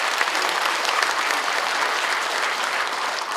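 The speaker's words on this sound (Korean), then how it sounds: "박수로 더 응원해 주세요" An audience claps through the whole stretch at a book concert held for Sewol ferry families, a loud, dense and steady ovation with no voices on top.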